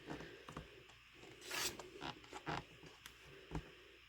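A rotary cutter trimming quilting fabric along a ruler, with close, quiet rasping strokes, one longer cutting pass in the middle and scattered small clicks and shuffles of the ruler on the cutting surface.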